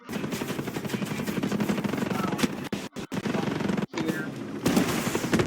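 Turret-mounted machine gun in the video game Ghost Recon Breakpoint rattling in sustained rapid bursts with brief gaps, loud and close, with someone briefly speaking over it.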